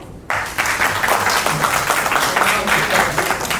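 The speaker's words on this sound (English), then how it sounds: "I would say you can clap." Clapping from participants in a Queen of India pageant grooming session starts abruptly after a brief quiet moment and continues as a lively, steady round of applause from a small group in a room.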